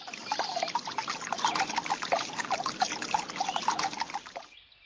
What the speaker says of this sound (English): The stone fountain makes a soothing sound.